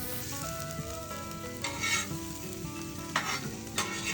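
Cheesesteak ingredients frying on a hot griddle, with a soft steady sizzle and brief clinks and scrapes of a spatula stirring the food, fairly quiet and without voices.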